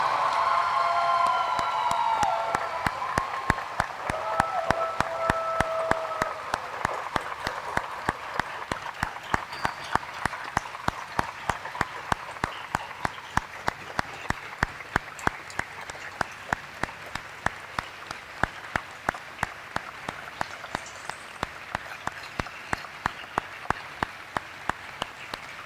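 Sustained applause from an audience at a graduation ceremony for a space camp for the blind, steady dense clapping that lasts throughout, with faint voices and a few cheers early on.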